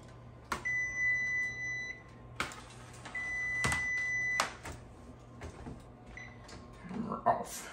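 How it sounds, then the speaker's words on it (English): An oven timer gives several separate electronic beeps with pauses between them, close by in a home kitchen where manicotti is baking, with knocks and cupboard or door clunks in between and quiet talk near the end. "Timer off."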